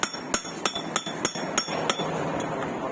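A giant oyster shell is hammered open in a series of about nine sharp, evenly spaced metallic taps with a hard clinking edge, loud and close, with no talk.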